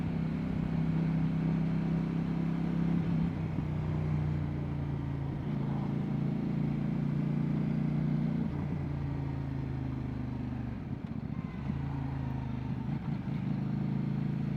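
A motorcycle engine held under throttle nearby, a steady mid-pitched drone whose tone shifts and dips a few times across the run, with no talking.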